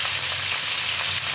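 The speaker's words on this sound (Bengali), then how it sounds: "সবজিগুলো কিছুটা ভাজা হয়ে গেছে।" Mixed vegetables sizzle in a pan in a short, dense burst of steady frying noise, loud and close, with no talking.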